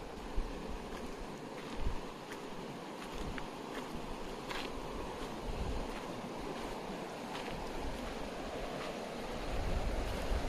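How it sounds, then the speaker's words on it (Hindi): Strong, steady rushing of a river in full flow in a jungle setting, a dense broadband roar that continues without break throughout, with occasional gusts of wind and no voices. "नदी का फ्लो जबरदस्त है।"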